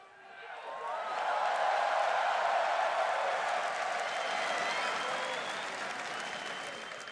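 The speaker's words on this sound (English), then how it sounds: "And everybody cheering you here." A large crowd at the League of Legends NA LCS Summer 2016 grand finals, TSM vs Cloud 9, applauds and cheers continuously, a dense roar of clapping that swells quickly and holds steady before easing slightly.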